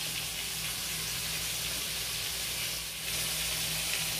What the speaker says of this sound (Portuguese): enquanto o bife frita